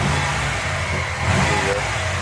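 A Subaru STI engine revs with a loud, rumbling exhaust, a steady close drone held throughout with a slight swell near the middle.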